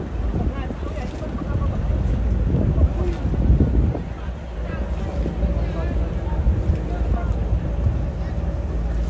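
A boat motor drones past amid gusty wind buffeting the microphone and lapping water, with voices talking over it.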